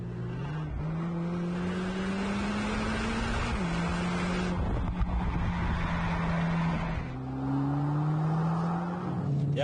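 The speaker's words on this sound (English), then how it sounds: "You can tell it's a four-cylinder sound." A Mercedes-AMG four-cylinder car engine, paired with a quick dual-clutch gearbox, pulls hard with a crisp growling exhaust that climbs in pitch, drops sharply at gear changes around four and seven seconds, then rises again, loud and steady without talk.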